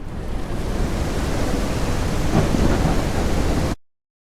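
Steady roar of heavy rain with a deep rumble of thunder swelling midway, continuous and loud, then cutting off abruptly.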